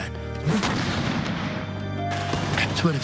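Artillery explosion on a beach, a deep, loud, rumbling blast that rolls and sustains across the whole span, with a second heavy impact near the end.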